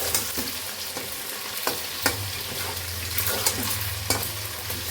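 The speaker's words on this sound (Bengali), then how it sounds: "এদিকে এই যে পকোড়া ভাজাও চলছে" Pakoras deep-fry in hot oil with a continuous close bubbling sizzle, broken by occasional sharp clinks and taps of a utensil against the pan, and a low hum underneath.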